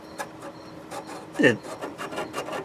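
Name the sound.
sanding a rough spot on a Toyota 4Runner fuel filter line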